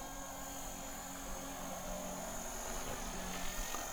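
A Blade 230 RC helicopter flies over a driveway, its steady, faint whirring drone continuous and unchanging, with a slight swell toward the end and no talking.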